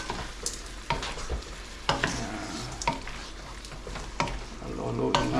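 Chicken sautés in a pot for tinola with an even sizzle. A spoon scrapes through it at roughly one-second intervals, close and moderately loud.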